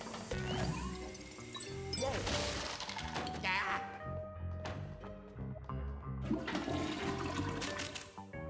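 A toilet flushes in the video game Luigi's Mansion 3, a gurgling rush of water layered with loud game music and clattering effects throughout.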